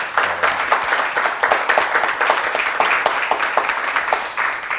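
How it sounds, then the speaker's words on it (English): Audience applause for guests at a community talk event on safe streets, steady crowd clapping sustained for several seconds at moderate distance with no talking. "I think the audience should give these guys a round of applause"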